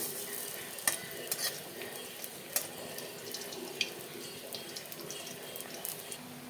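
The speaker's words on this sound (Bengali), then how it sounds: "তেল গরম হয়ে গেছে বড়াটা ভেজে নেব ঘুরিয়ে ঘুরিয়ে বড়াটাকে ভেজে নেব" Soft bubbling sizzle of red lentil fritters with drumstick stalks frying in mustard oil, fairly quiet, with occasional clinks and scraping of a utensil turning them.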